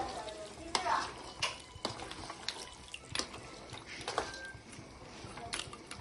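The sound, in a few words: stirring tamarind juice into goat head curry in pan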